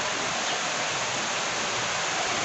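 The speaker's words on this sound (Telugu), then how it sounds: "ఫుల్ వర్షం పడుతుంది." Heavy rain pours down steadily outside a home, a close, loud and unbroken hiss of falling water that holds an even level throughout, with no voices.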